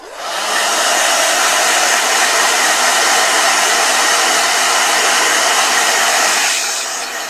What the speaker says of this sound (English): And then blow dryer.